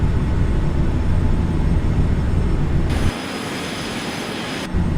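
A jet airliner in Microsoft Flight Simulator X roars steadily while cruising at 30,000 feet, then the engine throttles down partway through, and the deep rumble drops to a quieter, thinner hiss.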